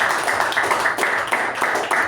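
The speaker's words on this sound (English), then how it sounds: "let us give a huge round of applause to Toastmaster Mamatha" Applause at a Toastmasters club meeting for Toastmaster Mamatha, a steady room of hands clapping together, loud and close for a couple of seconds.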